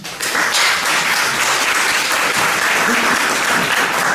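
Loud, sustained applause from an audience at a Peruvian literature colloquium welcoming a speaker, many hands clapping steadily throughout without a break.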